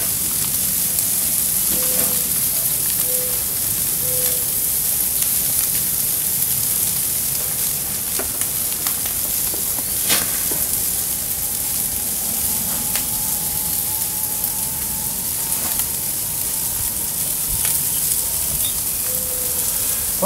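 Lamb chops from a rack of lamb, seasoned with salt and pepper, sizzle on a grill in a steady, close hiss that runs throughout with a few faint clinks and no talk.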